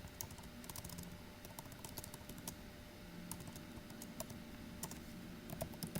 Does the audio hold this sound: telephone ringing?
no